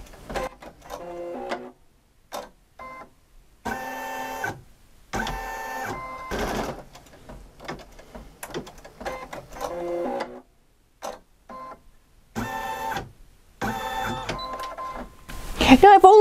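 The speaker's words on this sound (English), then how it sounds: "The machine is going to go ahead and finish and sew around my whole heart and add that really cool decorative stitching around the outside edge." An embroidery sewing machine stitches a decorative design around a heart shape, its motor running in rhythmic bursts of rapid whirring and ticking with short pauses between, close and clear.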